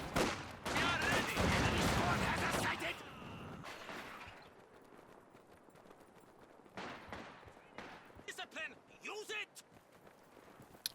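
Maxim machine gun fire in the strategy game Company of Heroes 2: a loud, dense burst of rattling shots for the first few seconds, then fainter scattered battle noise while a voice talks over it.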